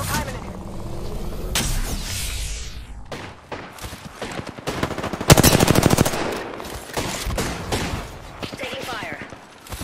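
Heavy gunfire from an Apex Legends match, with bursts of automatic fire and loud shots peaking near the middle, mixed with game effects and callouts.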